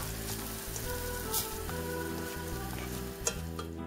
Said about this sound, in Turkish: Unun kokusu gidip rengi dönene kadar kavuruyoruz